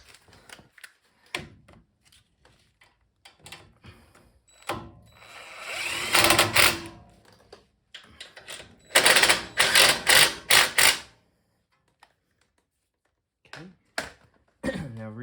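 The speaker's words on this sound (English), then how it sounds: "Just get them started here and I'll finish them off with the impact." An impact wrench tightens leveling kit bracket bolts on a 2019 Ford F-150, giving sharp rattling bursts of hammering between quieter handling clatter, close and loud, with someone speaking in between.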